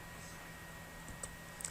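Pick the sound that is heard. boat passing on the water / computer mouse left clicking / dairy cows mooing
computer mouse left clicking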